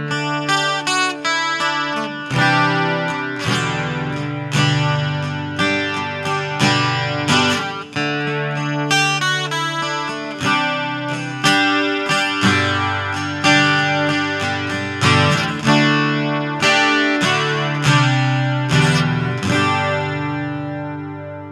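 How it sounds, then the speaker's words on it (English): Acoustic guitar played through a JOYO AC-20S acoustic amp with chorus set around 30%, strummed and picked chords ringing steadily with a shimmering, doubled tone throughout, no talking. "The chorus is always a nice little addition when you're doing any kind of acoustic guitar"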